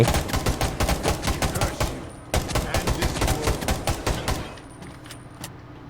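Rapid bursts of automatic gunfire from the Undawn video game, loud volleys in quick rhythm with a brief pause near the middle, then tapering to scattered shots.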